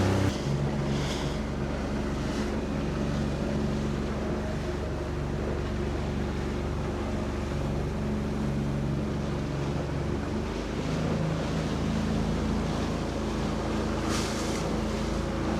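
A fishing boat's outboard engine running steadily on open water while out cod fishing, a constant low drone mixed with wind and wave wash, with no talk.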